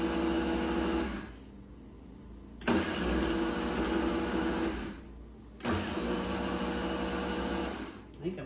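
A Vitamix blender grinding pineapple peels roars loudly in three bursts with short pauses between them, its motor whine thick and close.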